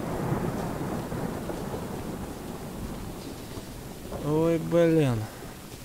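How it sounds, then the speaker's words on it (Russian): Thunderstorm in the Choo-Choo Charles video game: a steady low rumble with a rain-like hiss runs throughout, and a voice briefly exclaims near the end. "Тихо, что это? Блин, молния."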